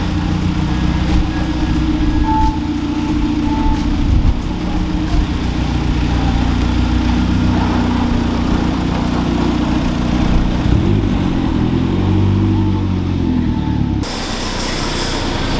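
Turbocharged wide-body Mazda Miata engine running loud and steady at close range, a continuous low droning rumble with shifting pitch toward the end and a brief dip near fourteen seconds, no talking.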